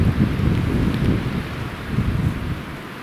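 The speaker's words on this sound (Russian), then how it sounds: "То снег, то дождь, то снег да с дождем." Rain mixed with snow falling in a mountain forest during a spring hike, a loud, steady wash of patter with rumbling wind noise throughout and no voices.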